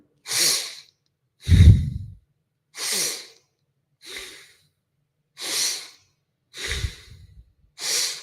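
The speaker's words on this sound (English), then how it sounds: "Inhale, exhale. Inhale, exhale." Deep, slow breaths during a breathwork session: seven evenly spaced, airy inhales and exhales, close and clear, with silence between them and some heavier, lower-pitched breaths.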